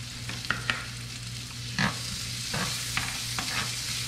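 Small chopped onions frying in a pan for shepherd's pie, a soft continuous sizzle with a low hum underneath and several close scrapes and taps of a utensil stirring them.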